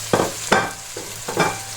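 Sliced bell pepper tipped into a hot, sizzling pan for a stuffed-bread ground-meat filling, giving two or three sharp hissing bursts of frying with stirring scrapes between them, close and moderately loud.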